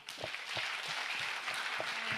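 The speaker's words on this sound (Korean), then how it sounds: "우리 변호사님께 우리 큰 박수" An audience at a lecture claps for the speaker, a lawyer: brief, fairly dense applause from a modest crowd, heard at a moderate distance for about two seconds.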